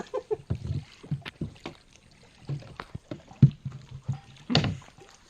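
A boat moves across the water of the Chandrapalli dam reservoir, with irregular splashes and water knocks in short bursts close by and quiet pauses between them.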